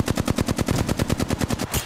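Sustained automatic gunfire in a first-person shooter video game, about twenty rapid evenly spaced shots close and loud, the burst tailing off at the end with no talk.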